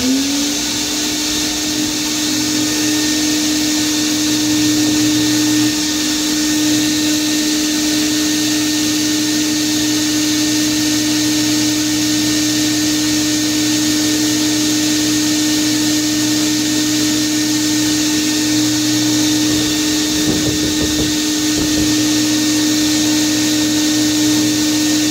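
Continuous loud hiss and steady whine of a sandblast cabinet blasting a golf club head in a garage, an unbroken roar lasting the whole stretch with a steady tonal hum beneath.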